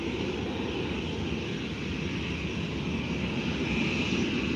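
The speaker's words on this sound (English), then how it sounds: "737-800 without winglets." A steady, loud roar of Jet2 Boeing 737-800 airliner engines fills the scene at Faro Airport, a broad continuous rumble with no voices over it.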